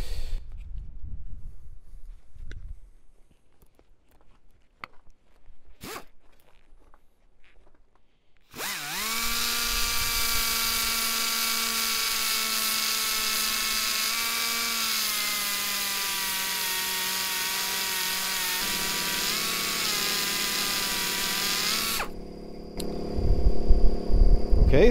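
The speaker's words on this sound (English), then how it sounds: "So I will start to grind off this bolt here" A power grinder cuts off a bolt on a DIY electric car heating setup, spinning up sharply and then holding a loud, steady whine with a strong pitched tone for about fourteen seconds before it stops, with faint knocks before and clatter after.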